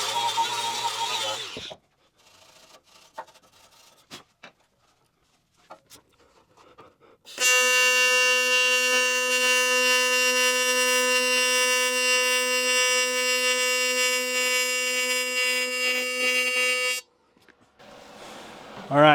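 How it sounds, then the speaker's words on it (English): An ArcCaptain TIG 200 welder lays a TIG weld on a cracked gate joint, giving a steady, loud electrical buzz that holds for about nine seconds, with brief speech and handling noises before it starts and after it stops. "I'm going to do that other weld real quick in the same spot on the other side."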